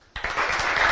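Brief burst of applause for race organiser Franco Tessarolo at a youth cycling Grand Prix in Rosà, a sudden dense clatter of clapping starting after a short quiet moment and holding steady to the end.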